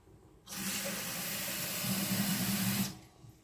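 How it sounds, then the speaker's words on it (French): Water runs into a pressure cooker while a chorba vermicelli soup is made. It is a steady close hiss and gush lasting a little over two seconds, then it stops. "rajouter de l'eau et fermer la cocotte."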